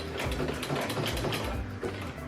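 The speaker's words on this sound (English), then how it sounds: "Now I'm gonna back stitch here" A sewing machine back stitching on dress fabric, a close, busy mechanical whirr with rapid rhythmic needle thumps and clatter, steady and loud throughout.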